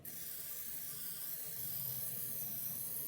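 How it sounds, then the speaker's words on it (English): A Chef'n oil mister gives a steady, quiet hiss of spray that runs the whole three seconds, close and unbroken with no voices. "Then spray again."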